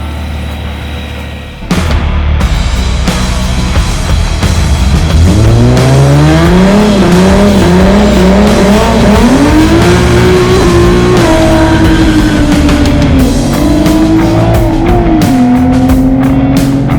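A supercharged V6 drag Mustang pulls hard in first gear, its engine note climbing steadily as it revs up, then holding a loud, high, strained drone with a brief dip and recovery near the end, close and unaccompanied by talk.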